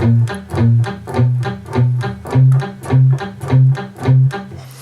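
Short, clipped electric guitar riff played staccato, a steady run of choppy, evenly spaced notes repeating in a tight rhythm.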